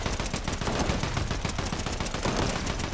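Rapid automatic gunfire from the Fortnite video game rattles continuously, dense bursts of shots crowding together at close range with no pause across the whole stretch.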